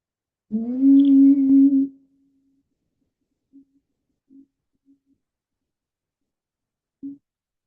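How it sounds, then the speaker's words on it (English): A single sustained vocal tone hummed on the exhale in a mindful-movement session, steady and fairly loud for over a second, then fading, followed by a few faint soft sounds and quiet. "as we exhale, we're going to tone the sound."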